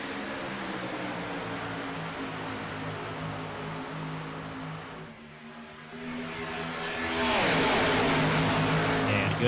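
Stock cars from the Gen 6 field in iRacing roar off the green flag at Daytona International Speedway, a dense steady engine drone that dips briefly, then swells louder and brighter as the pack accelerates.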